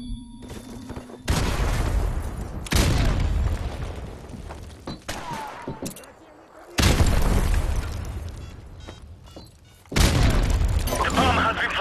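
Grenade blasts in a multiplayer shooter come as several heavy booming explosions, each a sudden loud burst with a long rumbling decay. Faint game sounds and voices fill the gaps between them.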